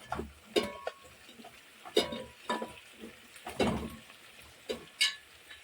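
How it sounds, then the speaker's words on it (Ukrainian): Chopped onions that have turned golden fry in a pan and are stirred with a utensil, giving a series of sharp scraping clinks against the pan at irregular intervals over a soft background sizzle. "Підсмажилась вже цибулька трошки і перемішуємо."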